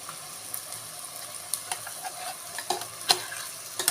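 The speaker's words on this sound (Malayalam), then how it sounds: "അപ്പം എല്ലാം കൂടെ നമുക്ക് നമ്മുടെ ചിക്കനിലേക്ക് ഒഴിക്കാം" Ground masala poured into chicken sizzling in a pan, giving a steady low frying hiss with scattered sharp clicks and spatters, close and fairly quiet, with no voices.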